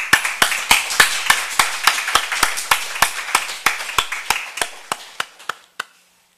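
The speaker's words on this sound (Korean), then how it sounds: "이 은혜의 감사와 영광의 박수를 올려드립시다." A church congregation at a Sunday worship service claps in unison, a steady rhythmic run of about twenty crisp, evenly spaced claps that gradually quicken and fade before stopping abruptly into silence.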